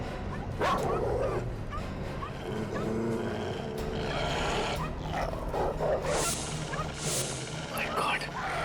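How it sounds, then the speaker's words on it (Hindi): Several dogs barking and yipping in a tense drama scene, repeated barks and whimpers throughout, with voices and background noise mixed under them. "बहुत कुत्ते।"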